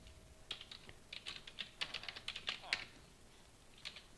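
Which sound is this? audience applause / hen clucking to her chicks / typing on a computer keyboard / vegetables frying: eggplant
typing on a computer keyboard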